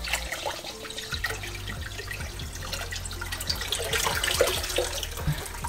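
Water pours steadily over rocks into a Fluval EVO 13.5 aquarium tank, making a continuous splashing and trickling sound with small bubbling drips, close and fairly loud throughout.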